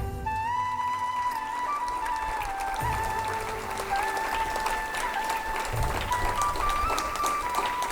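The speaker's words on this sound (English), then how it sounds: "Let us all welcome our honorable chief guest with a huge round of applause." Applause from the audience at a 75th Independence Day celebration as the chief guest is welcomed, with sustained clapping mixed with background music tones and a steady crowd wash.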